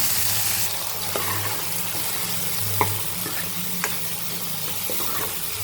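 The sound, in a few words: masala frying in a pan for egg curry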